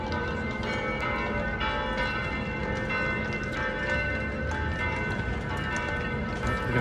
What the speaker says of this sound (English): I'm being drawn to this church by those bells